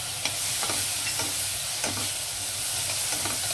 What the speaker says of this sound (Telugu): అయితే ఇవి మాడిపోకుండా చక్కగా వేగాలంటే మనం టమాటా యాడ్ చేద్దాం